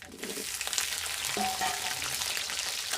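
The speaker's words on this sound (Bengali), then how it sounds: "পুরো সবজিগুলো একসঙ্গে ভেজে নিচ্ছি" Potatoes and mixed vegetables frying together in a pan for khichuri and cabbage ghonto, a continuous close sizzle with light stirring scrapes and no talk.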